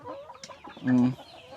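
Native egg-laying chickens close by, around six-week-old pullets, give a few soft clucks and then one louder, drawn-out cluck in the middle. Other faint bird chatter sits around them.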